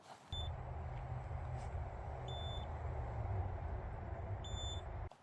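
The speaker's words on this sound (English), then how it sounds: "Once the fridge starts beeping at you, you do want to close the lid." An ICECO APL 55 12V fridge sounds its lid-open alarm, with three short, high electronic beep pairs repeating at steady intervals over a constant low hum.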